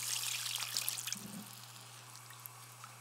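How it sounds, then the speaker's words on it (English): Stock poured into turkey gravy and stirred, a soft liquid trickle and splash, faint and close over a steady hum, with no talking. "Once smooth, add a bit more stock and stir."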